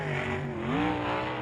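Race car engine at Cocopah Speedway during a USAC Western World event, droning loud and steady with a slight stumble in pitch as it pulls away from the start.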